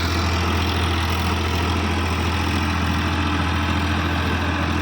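A Farmtrac 60 tractor stuck in mud runs its diesel engine at a steady idle, a continuous low throbbing rumble, loud and close with no talk over it.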